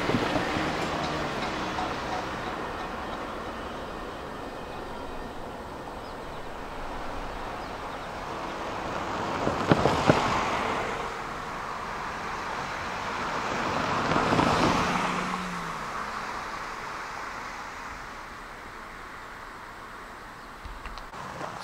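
CSX ethanol tanker freight train, 2.5 miles long with a DPU, rolling over a grade crossing with a steady rumble and clanking as cars bounce, swelling in two louder surges, with wind noise throughout.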